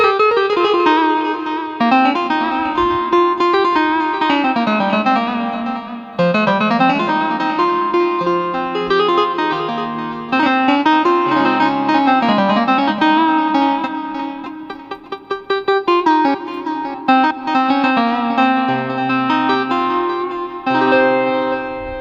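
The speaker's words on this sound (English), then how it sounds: "Now we have here something in between Baglama and Buzuqi, Greek Buzuqi." A bright, twangy electric baglama, a long-necked lute, plays a continuous melodic line, thick with distortion and effects, loud and steady throughout.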